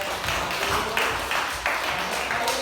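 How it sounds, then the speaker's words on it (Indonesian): Students in a classroom applauding the presenting groups, a sustained patter of many hands clapping at moderate loudness, even and unbroken throughout. "kita kasih aplaus tepuk tangan dulu kelompok 1, 2, 3"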